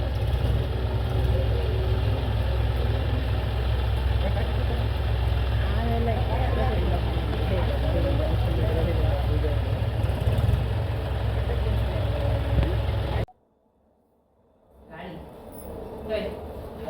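A village tractor engine idles close by with a heavy, steady low rumble and throb that runs unbroken for about thirteen seconds, then drops out suddenly, leaving near silence before faint sounds return; voices talk over the engine.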